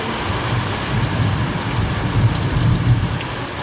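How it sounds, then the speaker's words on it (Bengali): Heavy monsoon rain pours down outdoors in a steady, dense roar of drops on surfaces, loud and continuous with a low rumble beneath and no voices. "প্রচুর বৃষ্টি হচ্ছে প্রচুর"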